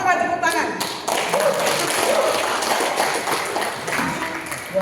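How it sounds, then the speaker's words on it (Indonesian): An audience at a lecture on governing Muhammadiyah enterprises breaks into applause, a dense clatter of clapping that starts after a brief voice and runs steadily, with some speech mixed in. "Kenapa nggak tepuk tangan?"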